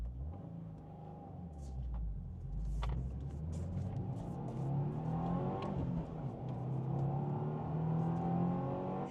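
A car engine revs and pulls hard up a hill, rising in pitch through the gears with a steady low rumble, heard from inside the vehicle.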